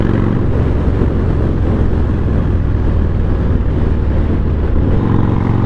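Yamaha Warrior 1700 air-cooled cruiser motorcycle with belt drive on a test ride, with a constant loud engine rumble and heavy wind roar that hold steady from start to finish.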